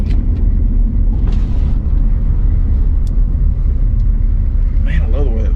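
A 1994 Chevrolet K2500 Silverado with a 6.5 turbo diesel cruising at about 65 mph in fourth gear gives a steady, loud, deep engine and road rumble that runs unbroken throughout.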